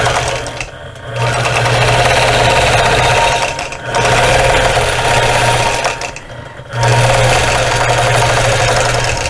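A sewing machine quilting in stitch-regulated mode hums and chatters loudly in long steady runs, pausing briefly three times between bursts of stitching.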